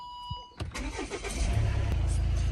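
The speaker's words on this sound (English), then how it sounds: "Then you just start the car up" A Volvo V70 engine cranks and starts after a brief quiet moment, then settles into a steady, close idle.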